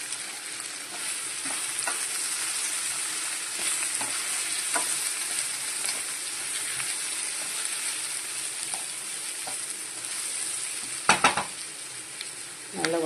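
Ivy gourd (kovakkai) frying in oil in a pan, a steady sizzle with light stirring scrapes and a couple of louder clatters near the end.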